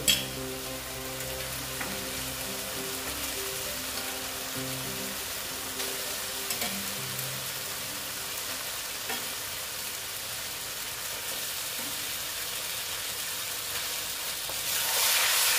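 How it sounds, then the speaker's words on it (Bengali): Eggs frying with potatoes and spices in a pan give a steady, close sizzle that runs throughout, with occasional stirring scrapes and no talking. "ডিমগুলো দিয়ে একটু আবার ডিমের সঙ্গে কষিয়ে নিচ্ছি।"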